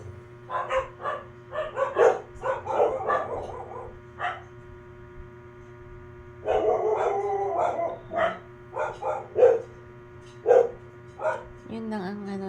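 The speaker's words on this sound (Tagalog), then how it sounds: "ang ingay ng aso" Dogs bark repeatedly in bursts from a moderate distance, with pauses between volleys, over a quiet low background hum.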